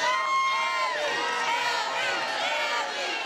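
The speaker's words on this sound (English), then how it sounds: "You hear the cheering." A packed crowd of about a thousand supporters cheers and whoops for Abi Carter at Jackalope Ranch, dense overlapping shouts and high voices sustained at close range for the whole stretch.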